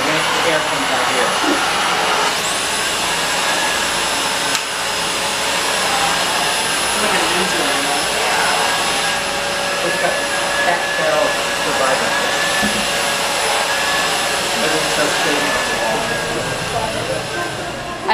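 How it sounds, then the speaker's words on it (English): A new vacuum cleaner runs indoors with a loud, steady whining roar and a high tonal hum that persists throughout, while people talk over it. "I've never seen men get so excited over a vacuum cleaner."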